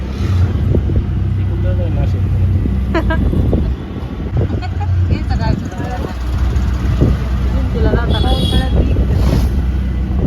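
An auto rickshaw ride, with a constant loud engine rumble and wind buffeting the microphone as people talk over the noise.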